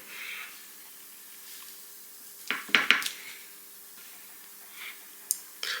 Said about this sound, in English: when you squash your plantain, like so